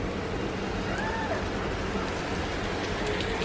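Steady rain falling on a hot day, a continuous broadband hiss of even loudness with no distinct drops or breaks, heard alone.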